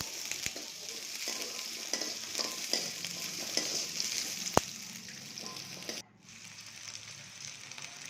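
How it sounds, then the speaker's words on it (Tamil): Onion and a handful of peeled garlic cloves sautéing in a pan for tomato chutney, a close crackling sizzle with spatula taps and one sharp knock, then the frying drops quieter for the last couple of seconds. "வெங்காயம் லைட்டாக வதங்கினதுமே நாம் உரித்து வச்சுருக்கிற பூண்டு ஒரு 4-5 பல் பூண்டு, ரெண்டையும் நல்லா வதக்கணும்."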